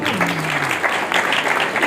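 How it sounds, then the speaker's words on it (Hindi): An audience at a devotional bhajan gathering breaks into steady, dense applause, with a voice briefly heard over the clapping at the start. "एक बार मेरी माँ के लिए ताली बजाइए।"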